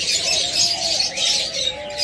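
A pair of Naira doves (ghughu) kept as caged pets, with soft, continuous cooing and high twittering from nearby birds running through the whole stretch, steady and fairly close.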